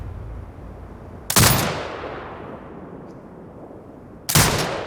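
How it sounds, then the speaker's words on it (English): Automated sentry turret in Sniper Ghost Warrior Contracts fires at hostiles: two sharp, loud single shots about three seconds apart, each followed by a long decaying echo, with no talk. "Exit binocular mode and command the turret to fire."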